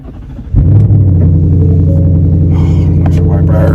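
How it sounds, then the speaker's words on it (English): A car engine cranks and catches about half a second in, then settles into a loud, close, steady rumble at idle, with faint clicks and rustling over it toward the end. "start her up."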